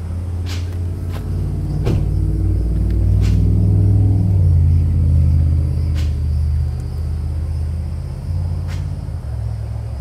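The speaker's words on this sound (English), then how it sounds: "The exhaust note on this car is truly delicious." Low, steady rumble of a 1951 Nash Healey convertible's straight-six exhaust idling up close, swelling briefly in the middle with a few sharp knocks on top and no talking.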